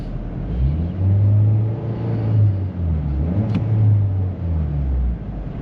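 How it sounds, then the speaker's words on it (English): Turbocharged car engine revving in a repair shop, a steady low rumble that swells and eases over several seconds with a faint whirring spool above, loud and close with no talking. "I can hear the turbo spool"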